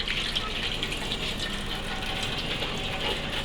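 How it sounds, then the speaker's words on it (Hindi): Rinse water poured off freshly washed rice in a kitchen, a steady close gushing splash that runs unbroken for a few seconds with no talking. "और जो पानी है उसको डोल दें।"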